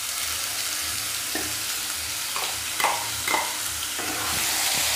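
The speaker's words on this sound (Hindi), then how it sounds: "पेस्ट को भी फ्राई कर लेंगे" Onion, garlic and green chili paste frying in a pan for a potato-eggplant curry, with a steady loud sizzle and a few scraping stirs of a spoon.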